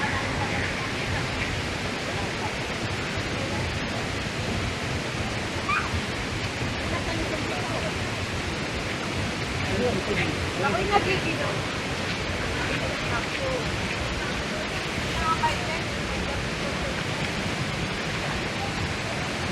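Mother Falls on the Diteki River, roughly 140 feet high, gives a constant broadband roar of heavy falling water that fills the scene, with faint voices now and then underneath.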